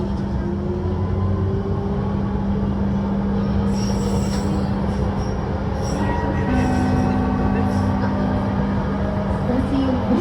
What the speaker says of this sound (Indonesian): kereta ini adalah kereta tanpa masinis pertama di Indonesia